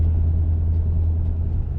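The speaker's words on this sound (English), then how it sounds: "Pretty much driving through a wash right now." A truck rolls along a paved desert wash in Death Valley, a loud, steady low road rumble and engine drone heard from inside the cab, with no voices.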